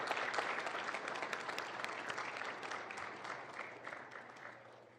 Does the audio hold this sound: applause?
yes